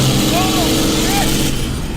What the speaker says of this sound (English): The throttle's stuck wide open.